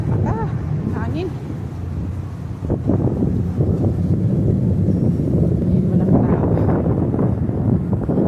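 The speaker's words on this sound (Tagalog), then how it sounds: "Hangin." Wind gusting and buffeting a microphone, loud low rumbling roar that strengthens midway, with a few faint higher tones early on.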